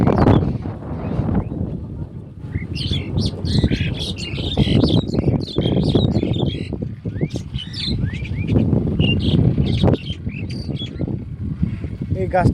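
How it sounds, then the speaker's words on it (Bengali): Many birds chirping and calling together in a busy chorus in a tree, fairly close, with bursts of tweets over background noise, in Koyakhata village. "অনেক পাখির কিচিরমিচির শব্দ"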